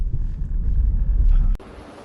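Strong wind buffets a cellphone microphone outdoors in Japan, a loud, close, low rumbling roar that drops off abruptly near the end.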